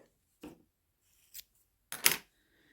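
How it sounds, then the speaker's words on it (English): Scissors snip through a length of white yarn during a crochet project: three quick, crisp cuts close by, the last louder and slightly longer, with quiet pauses between and no talking. "I'm going to take some white yarn, and I'm going to cut a length of it"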